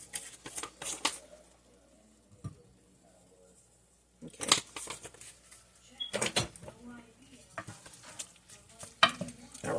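Spoon stirring a pot of creamy spinach bisque soup seasoned with onion powder and Cajun seasoning, soft scraping and sloshing strokes coming in short bursts with quiet pauses between.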